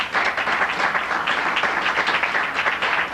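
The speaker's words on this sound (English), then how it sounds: "just give a little round of applause" A room full of people claps steadily and loudly for a performer being introduced, a dense, even round of applause that keeps going without a break.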